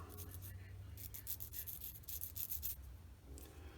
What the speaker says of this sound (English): Now I need to get a burr off here